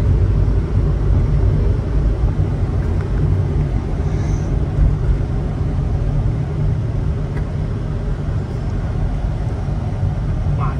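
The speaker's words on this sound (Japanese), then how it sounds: "エアコン3段階中2でつけてるんで、ちょっと車内エアコンの風の音がうるさいかもしれませんが" Air conditioner fan running on its middle of three settings inside the cab of a moving Japanese kei light truck on a hot late-summer day, a steady loud broadband whoosh blended with low road and engine rumble and no pauses.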